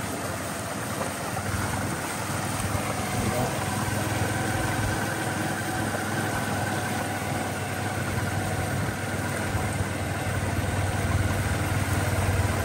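A motorcycle engine idles steadily, a low continuous hum and rumble that holds without revving.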